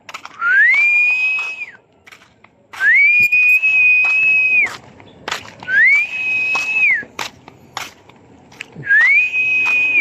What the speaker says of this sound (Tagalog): Sipol tayo.